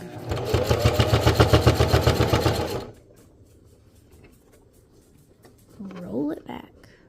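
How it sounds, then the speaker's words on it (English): A sewing machine stitches and back stitches fabric in a fast, loud rhythmic run of needle strokes lasting a few seconds, followed by quiet handling and a brief spoken remark. "I'm going to put a couple of stitches, and then I'm going to back stitch"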